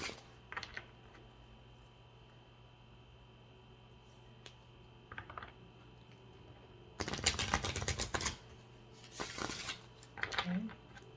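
Cards riffle and snap in two loud bursts after long quiet, with a few softer card flicks and a low hum throughout.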